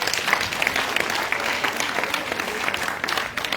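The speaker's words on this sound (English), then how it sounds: "But I get a round of applause for." An audience at a public event claps in a steady, continuous round of applause, moderately loud and sustained throughout, with scattered sharper claps standing out.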